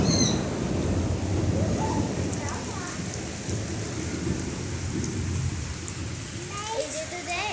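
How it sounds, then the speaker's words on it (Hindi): Steady rain falling outdoors at night with rumbling thunder, a dense continuous hiss close by, with a few faint voices and bird calls in the background. "तो यहाँ पर देखिए बारिश होने लगी।"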